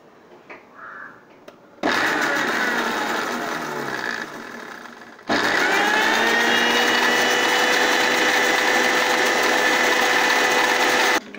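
A kitchen mixer whirs steadily while blending mayonnaise as sunflower oil is poured in a thin stream, a loud continuous motor drone that starts suddenly, drops briefly, then resumes at full strength.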